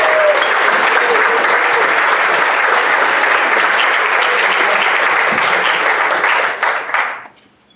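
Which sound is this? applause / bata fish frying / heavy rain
applause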